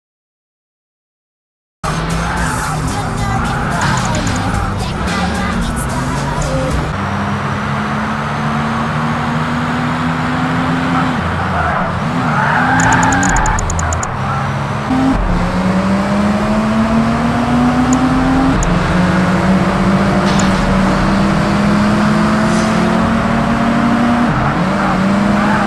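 Race cars roar continuously in Project Gotham Racing, loud engines climbing and falling in pitch through gear changes as cars rev, pass and accelerate, with the sound starting abruptly after a brief silence.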